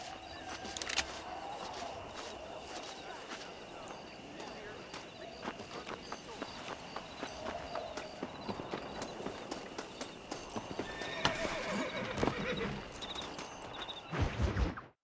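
Horses in the western game Red Dead Redemption, with a steady clip-clop of hooves and movement throughout, fairly faint, and people talking over it.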